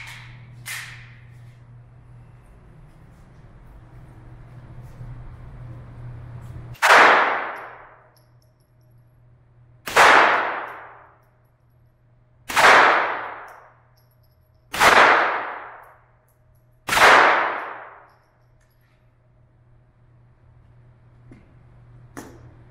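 A Glock 44 .22 LR pistol fires Aguila Super Extra ammunition, five sharp, loud cracks spaced a few seconds apart, each with a short ringing decay. A low hum runs beneath, and no one speaks.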